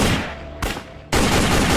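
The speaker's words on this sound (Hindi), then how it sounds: "सुशील, गोली चल जाएगी।" Loud, sharp gunshots crack close by, a burst at the start, another single shot, then a sustained blast of rapid fire.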